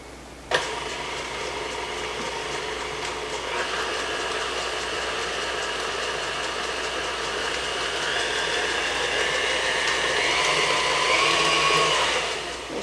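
An electric mixer whirs steadily through cookie dough for apple cider cookies, a continuous motor drone that rises slightly as eggs are beaten in one at a time, with no talking.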